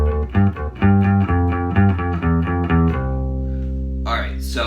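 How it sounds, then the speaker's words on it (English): Bass guitar playing a riff with the second half up an octave: a run of plucked notes, then a long held low note ringing out, close and alone, with a brief noisy scrape near the end. "he plays basically the second half up an octave higher for variety."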